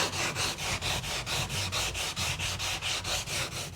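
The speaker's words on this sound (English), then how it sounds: "So I'm going to finish sanding this up, blending some of the lap joints" Sandpaper works over epoxy lap joints on a wooden Wood Duck 12 kayak in quick, rhythmic back-and-forth strokes, close and steady with no pauses or talk.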